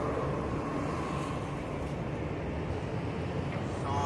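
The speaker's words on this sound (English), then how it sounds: "The buses be loud." Loud, steady roadway rumble of buses passing outside, a dense continuous wash of engine and traffic noise with no voices.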